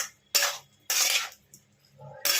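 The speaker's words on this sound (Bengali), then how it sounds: "এবার আমি এর মধ্যে আলু আর সোয়াবিন গুলোকে ছেড়ে দিচ্ছি, দিয়ে আমি ভালো করে কষে নিচ্ছি" Potatoes and soybean chunks are stirred in hot oil in a pan, giving three loud bursts of scraping and sizzling with short quiet gaps between them.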